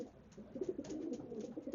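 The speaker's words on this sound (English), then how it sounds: "this is a loft of sprint pigeons" Sprint racing pigeons in a loft give low, soft cooing that murmurs on steadily, close but faint, with no one speaking.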